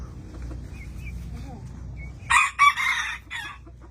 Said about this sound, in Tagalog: What is that chicken?